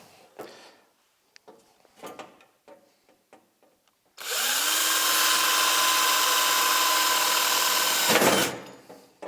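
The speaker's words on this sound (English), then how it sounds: "I'm drilling around my turbo here, but I have everything blocked up." A power drill bores around a turbocharger during a Van Amburg double-pass cooler install on a VK1000 Turnitrobeast, running as a loud, steady whine for about four seconds after a stretch of quieter clicks and handling noises.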